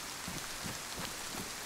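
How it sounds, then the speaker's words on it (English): Rain falls steadily on a modded video game map called Valning, a soft, even patter of drops with faint low thuds, heard alone without talk. "It has been raining a lot, or maybe it's just meant to rain a lot."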